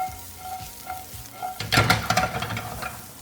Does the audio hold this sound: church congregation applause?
no